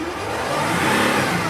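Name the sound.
Mercedes Sprinter van engine revving up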